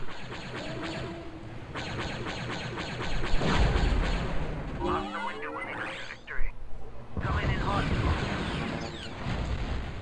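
Rocket launcher fire and battle noise in the video game Star Wars Battlefront, large-scale mode: constant rumbling explosions and blasts fill the mix, with a sharp whooshing launch partway through and heavy booms around it.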